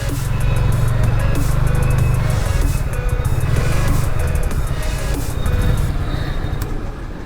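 A car rolling into a parking spot beside a railway road, a loud, steady close-up rumble of engine and tyres that eases slightly toward the end, with no voices.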